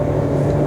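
An MG car's engine revving flat out under full throttle, a loud, steady droning roar with strong low harmonics, heard close and alone for a brief moment.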